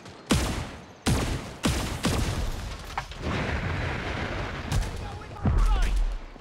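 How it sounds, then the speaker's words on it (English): Heavy booming turret shots in the mobile shooter Modern Strike Online, several loud separate blasts spaced about a second apart, then a rumbling battle bed with more scattered impacts. "Enemy turret is firing."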